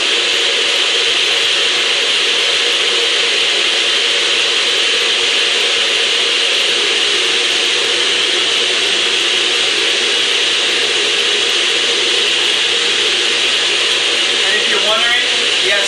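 A blender whirs steadily while mixing a whole-food chocolate smoothie, a loud continuous motor roar that holds for about sixteen seconds without pause.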